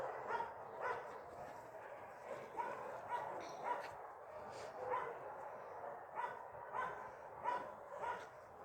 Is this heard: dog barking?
yes